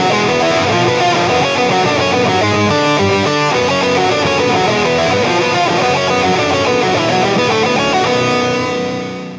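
Distorted electric guitar riff in a song backs a synth line on its second pass, a dense, loud mix of rapid repeating notes that runs steadily for several seconds before easing off at the end, with no talking.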